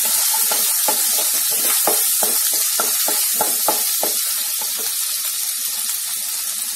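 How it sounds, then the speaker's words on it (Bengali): Chopped tomatoes dropped into a hot pan while cooking a Bengali rui fish jhal, a loud steady sizzle and crackle up close with scattered popping, no voice. "এবার আমি এর মধ্যে টমেটো কুচি দিয়ে দিলাম।"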